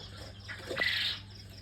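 Quail in a small farm room that also holds an incubator give a single short, faint burst of chirping in an otherwise quiet space.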